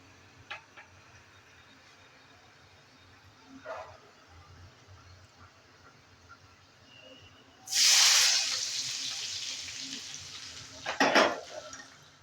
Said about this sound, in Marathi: हे पहा या पद्धतीने फोडणी झाली आहे आता आपण ती भाजीवर घालून देऊया